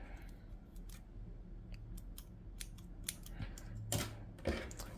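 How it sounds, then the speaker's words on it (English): Scissors snipping crochet yarn, a string of crisp close clicks and a couple of louder cuts near the end, heard on their own against quiet room tone. "you're going to cut your yarn"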